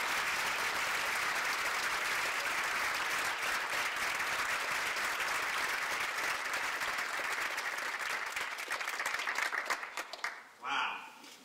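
An audience welcoming designer Chip Kidd at the Whitaker Center with loud, sustained applause that fades out near the end, followed by a brief sound as he reaches the stage.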